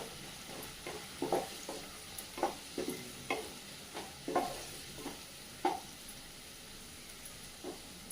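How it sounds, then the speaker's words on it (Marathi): Chopped onion with salt fries in a pan with a steady low sizzle, broken by a dozen or so sharp scraping stirs spaced irregularly and close by, with no voices. "मीठ टाकल्यामुळे कांदा लवकर फ्राय होतो"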